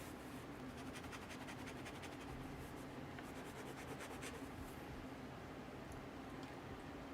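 A pen nib rubs and scratches across paper while drawing, a soft, steady rasping texture with faint repeated strokes over a quiet background hum.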